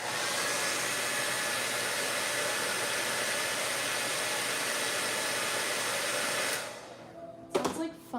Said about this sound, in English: I'm gonna dry it real quick.